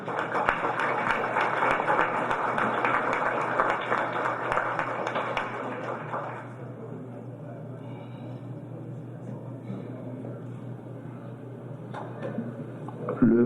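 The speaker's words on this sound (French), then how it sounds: "Sous vos applaudissements, bien sûr." Applause greets the Prime Minister of Haiti, Laurent Lamothe, at a ceremony launching a plan at a hotel: dense clapping fills the first six seconds, then fades to a low room murmur with scattered taps.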